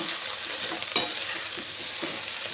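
Restaurant-style chicken fried rice being stir-fried in a pan, with a continuous close sizzle and soft stirring scrapes and one sharper clack of the utensil against the pan.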